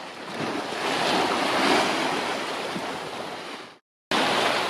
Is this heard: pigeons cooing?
no